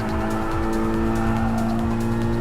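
A race car braking hard in Gran Turismo Sport during a World Hatchback Championship race, with loud steady engine drone and tire squeal layered over rising and falling engine tones, near and continuous.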